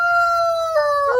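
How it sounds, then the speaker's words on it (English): A backyard rooster crows close and loud, one long tonal call that holds steady, then bends and breaks into a rougher, strained ending, with no voices over it. "I think it's cute, them crowing"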